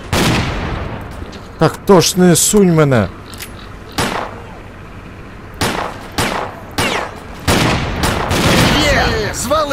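Gunfire in S.T.A.L.K.E.R.: Clear Sky, loud sharp shots cracking out singly and in short bursts across the firefight, with someone talking between them and other game sounds mixed in.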